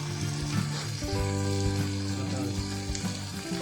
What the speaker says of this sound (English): They will crackle and release their oil into the dish.